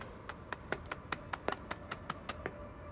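A single character slowly and deliberately claps about a dozen times at an even pace in a Street Fighter V cutscene, faint and close, with a quiet background bed and no speech.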